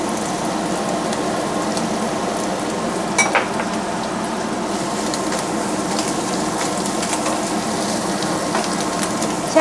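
Shallots, shiitake mushrooms and dried shrimp fry in oil in a pan with a steady, close hiss and crackle throughout, broken by a few faint scraping stirs.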